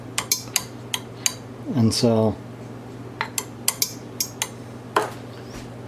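A spoon stirring yeast into a potato mixture in a bowl gives quick light clinks and taps against the bowl, with a brief word spoken mid-clip.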